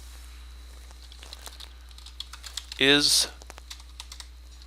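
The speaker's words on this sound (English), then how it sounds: "What we can do here is I can type in a question." Quiet computer keyboard typing, a run of light scattered keystrokes entering a question, with a brief voiced word breaking in partway through against a steady low hum.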